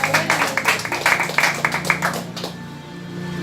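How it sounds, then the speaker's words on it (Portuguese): Hands clapping throughout a church worship service, a dense, steady burst of applause from the congregation that fades out after about two and a half seconds, leaving a quiet room. "Aplauda Jesus Cristo"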